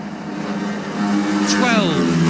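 Classic racing motorcycles at the Junior Classic TT on Glencrutchy Road roar closer, a rising engine whine swelling in pitch and loudness as two bikes come into view, under a commentator's talk.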